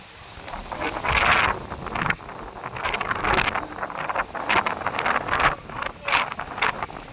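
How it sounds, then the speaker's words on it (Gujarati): Strong summer storm wind in Ramdhari, Gujarat, buffets the microphone in loud, gusty rushes that surge and ease repeatedly, with no voices present. "થોડી થોડી નકરી ફૂલ પવન છે અત્યારે હાલ રામધરીમાં."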